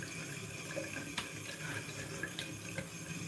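Cold water pours from a kitchen tap into a sink, a fairly soft, steady stream broken by a few small splashes and clinks.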